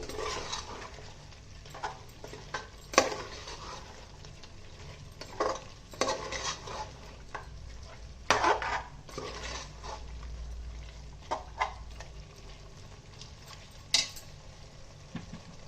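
Coriander and mint being stirred in a pan for Guntur-style chicken biryani: quiet soft sizzling under intermittent scraping and clinking strokes of a utensil against the metal pan, spaced irregularly, fairly close, with no voices.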